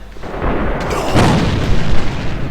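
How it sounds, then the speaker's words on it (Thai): A loud explosion in the online shooter game AVA rumbles out as a sustained booming roar, swelling again near the middle of the clip with no voices over it. "ระเบิดสุด"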